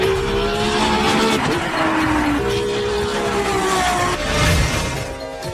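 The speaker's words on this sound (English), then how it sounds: "For years, the company has been famous for building Formula One race cars." Ferrari Formula One race cars roar loudly and continuously, their high engine whines rising and falling in pitch as they pass, with a brief louder surge near the end.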